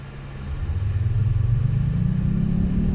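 A 2020 Jaguar I-Pace electric car accelerates hard at full throttle, giving a loud, steady low rumble and a rising whine that build over a few seconds with no talking.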